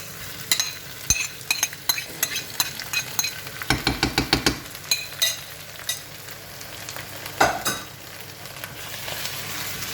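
Mashed salmon is stirred in a frying pan, with scraping and clinking utensil strokes over a low sizzle, irregular and close.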